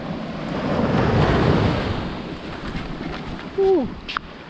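Ocean waves on Holden Beach in North Carolina wash up and churn over shells in a steady close roar with wind noise, followed by a short outburst near the end.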